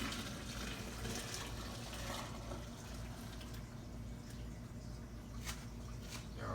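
Peach ice cream mixture, sugar stirred in, being poured into an ice cream maker bucket: a steady, close liquid pour with a continuous watery rush and splashing throughout.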